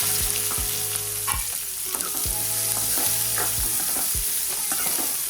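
Chopped onions frying in hot oil with cumin and asafoetida for a bitter gourd curry, a loud steady sizzle broken by regular clacking strokes of a spoon against the pan; no voices.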